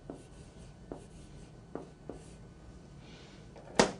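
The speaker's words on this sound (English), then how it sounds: "I'll pick up my black pen from the pen tray, and I'm going to write happy." A black pen writing a word, probably on a smart board, with a few soft, sparse scratching strokes followed by a sharper tap at the end, quiet and close with no talking.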